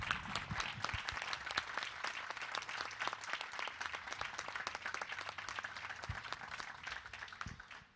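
Audience applause at a tribute event for Eliana Alves Cruz: a steady, crisp patter of many people clapping, rather faint and distant, continuing evenly with no voices over it.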